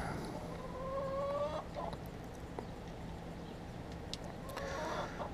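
Chickens at a west Texas RV park cluck and make short calls at low volume against a steady outdoor background hum.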